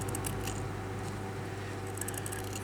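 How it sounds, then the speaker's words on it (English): Scissors snipping a piece off a paper journal page, a few quiet crisp cuts clustered at the start and end over a steady low background hum. "now I need to cut this piece off"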